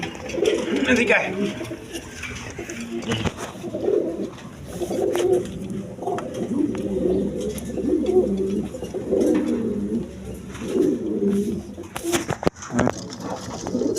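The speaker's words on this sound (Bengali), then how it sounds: "দর্শক এখানে এক পেয়ার আপনার কোকা কবুতর আছে" A pair of Koka pigeons coo repeatedly in low, throaty phrases close by, while someone talks over them throughout and something clatters briefly near the end.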